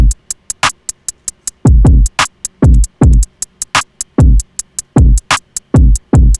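An edited drum beat of punchy kicks, snares and rapid hi-hat ticks, loud and steady in a tight looping pattern with no voices.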